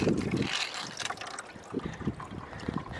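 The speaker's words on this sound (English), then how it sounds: "Water's coming down the pipe." Water runs down a thawed hose pipe on a farm. There is a soft, close trickle and gurgle with light splashes, quiet and continuous, under faint background noise.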